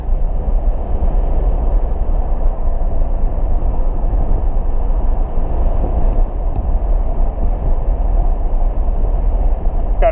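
Third-generation Pontiac Firebird on the road after sitting unused for years, a steady close interior engine drone and road rumble running unbroken throughout, with no talk.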